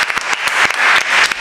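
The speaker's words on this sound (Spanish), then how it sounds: "un aplauso muy grande para ti, cariño" A short burst of close, energetic clapping from a crowd at a party in Marbella, individual claps standing out within the dense applause.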